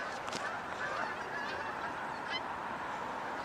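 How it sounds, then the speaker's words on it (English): Distant geese honking faintly over steady outdoor background noise, a few calls scattered through the stretch, the flock about 500 yards away flying up a valley, heard on a trail run. "Hear the geese?"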